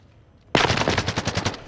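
Automatic gunfire in Call of Duty Warzone bursts in suddenly after a quiet half second, a loud rapid string of shots rattling on steadily to the end with no talk.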